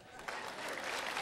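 An audience breaks into steady, dense applause that stays even and fairly loud through the whole short stretch.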